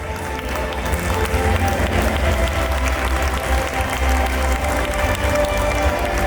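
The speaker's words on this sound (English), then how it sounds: "Audience, please give them a loud applause." A school annual day audience claps steadily for several seconds, a dense and continuous round of applause that fills the hall without any clear breaks.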